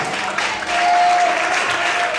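A church congregation applauding in praise during a sermon, a dense, loud, sustained wash of clapping from many hands, with a brief tonal whine running through it.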